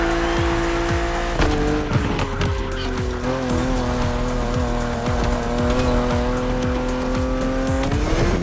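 BMW Z4 E89 coupe cabriolet being driven hard, a loud, close engine revving up and down through repeated gear changes with a strong droning whine, unbroken throughout.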